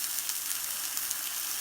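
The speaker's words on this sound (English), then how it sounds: "Just sizzling away." Halved avocados sizzle on a grill with a steady, bright frying hiss, continuous and moderately close, with no voices over it.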